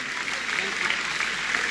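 An audience at a church gathering applauding, a dense steady wash of clapping from many hands at moderate distance, with some voices mixed in.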